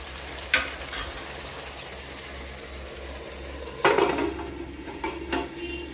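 Tomato curry cooking in a covered pan on a high flame, a steady low bubbling and simmer broken by a few clinks and a louder clatter of the lid and utensils, with no talk.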